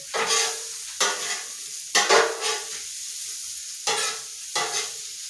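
Smash burgers sizzling on a hot griddle, with sharp bursts of loud hissing and scraping spatula strokes repeating roughly every second over a softer steady sizzle.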